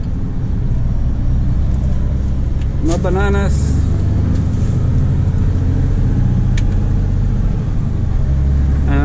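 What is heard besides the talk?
Mercedes Actros truck V6 engine climbing a hill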